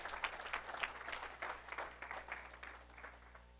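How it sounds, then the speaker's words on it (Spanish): A church congregation claps and applauds together in a steady, moderately loud patter of many hands lasting a few seconds, with a low hum underneath. "Dele palmas al Señor."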